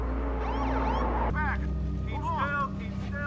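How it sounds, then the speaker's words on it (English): Police sirens wail over a steady engine rumble, the sweeping tones rising and falling, fairly loud and continuous with a brief break partway through. "SWAT does not roll in with sirens like that."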